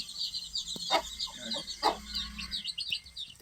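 A hen sitting on a clutch of eggs on a free-range chicken farm gives low, repeated clucks, with other chickens chirping and calling around her in a busy outdoor coop.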